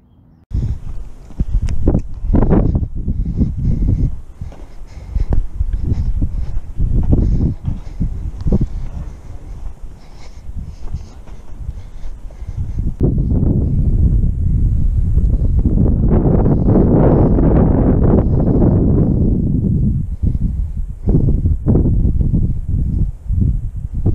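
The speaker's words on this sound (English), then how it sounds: "Wind's kind of bad today, but make do." Strong, gusty wind buffets the microphone at the dried-up Rio Grande, a rough roaring rumble that rises and falls in bursts, then swells into a sustained heavy gust through the second half.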